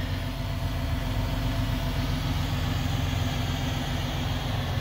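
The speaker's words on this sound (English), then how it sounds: "It's the Mack engine again, it's original." A 2007 Mack Granite truck with its original Mack engine idles, a steady, close low rumble that holds evenly without revving.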